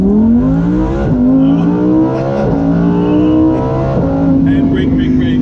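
Lamborghini Performante sports car engine revving loud and close, pitch climbing in repeated surges as it accelerates through several gear changes, a steady roar throughout.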